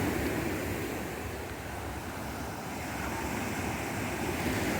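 Surf washing onto a beach at Cabo Rojo in the Dominican Republic, a steady broadband roar of breaking waves mixed with low wind rumble across the microphone, continuous and fairly close, with no one talking.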